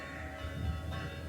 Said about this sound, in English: So I recorded a little bit of the church bells